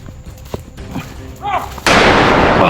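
Video game gunfire crashes in as a dense, loud burst of shots near the end, after sharp isolated bangs and a voice exclaiming over game sounds.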